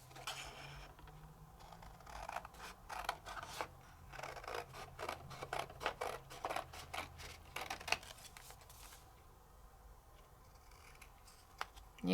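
Scissors cutting paper freehand in a series of crisp, close snips, irregular and quiet, alone without talking.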